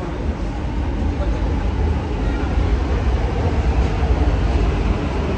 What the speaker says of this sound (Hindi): वो मेट्रो आ गई